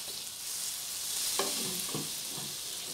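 Butter heating in a pan as vermicelli is roasted, a soft steady sizzle with a few close scraping stirs of a spoon in the second half.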